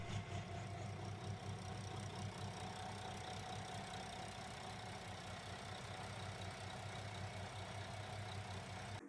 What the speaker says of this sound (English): This impressive 7-cylinder marine radial engine is brought to life during a controlled startup test.